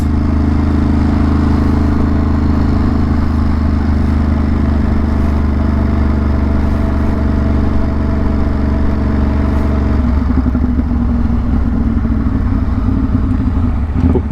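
A motorcycle with a chain that needs lubing rides along a road on a trip toward Lake Erie in Ohio, its engine droning steadily and loudly up close with wind rush, and the pitch shifts about two-thirds of the way through.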